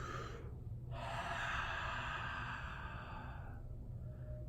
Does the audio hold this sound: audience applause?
no